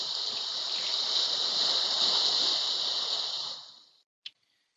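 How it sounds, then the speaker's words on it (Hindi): Ocean wave sound effect laid into a Premiere Pro video edit: a steady broad wash of rushing surf holds for about four seconds, then fades out abruptly, followed by a single short click. "जो कि मेरे पास ये लहरों की आवाज़ है।"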